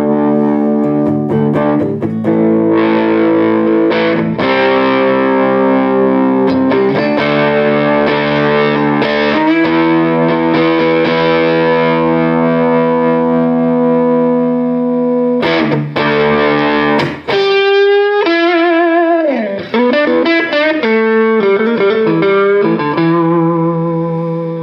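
D'Angelico Deluxe Atlantic electric guitar in Desert Gold, switched to the middle pickup position with both pickups split to single coil, playing sustained chords and then bending single notes, loud and close with no talking.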